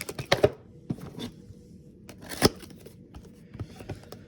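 Leaf Exotic Multisport trading card boxes being cut open at a desk, with close, scattered sharp clicks and rasping slices and one louder snap partway through, against a quiet background.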